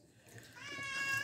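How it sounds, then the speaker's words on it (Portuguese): Several cats meow loudly and insistently at an outdoor tapioca-and-condensed-milk ice pop tasting, their cries rising from a faint start into overlapping, sustained calls that fill the short moment. "Os gatos estão miando."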